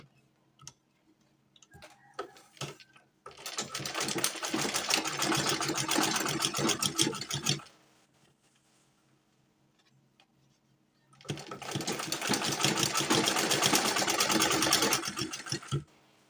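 A sewing machine stitches a V-neck top in two close, loud runs of rapid mechanical whirring, each lasting about four seconds, with a quiet pause between them.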